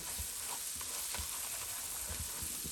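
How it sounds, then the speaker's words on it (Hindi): Green chillies fry with onions in a pan, making a faint, even hiss of sizzling broken by soft stirring taps. "ये प्याज़ों के साथ अच्छे से भुन जाएगी"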